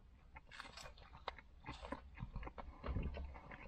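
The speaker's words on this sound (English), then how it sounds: "Nice crunch." Close, quiet biting and chewing of a cheeseburger with onion rings, with several crisp crunches and wet chewing sounds in an irregular rhythm, no talk over it.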